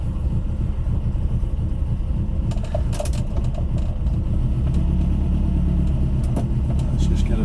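A 1967 Ford Corsair's engine hums steadily as the car drives, a low continuous rumble filling the cabin, with a few brief knocks and clicks over it.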